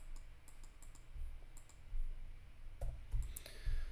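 Computer mouse clicks while arranging vector shapes in design software, scattered sharp taps, a few quick doubles, close and fairly quiet over faint room noise.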